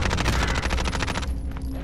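Rapid, loud bursts of gunfire from a shotgun in an online squad-based video game, firing close up in a dense stream that breaks off near the end.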